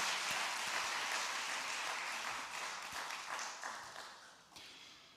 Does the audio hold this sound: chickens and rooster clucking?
no